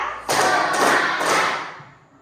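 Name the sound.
children clapping hands in a counting game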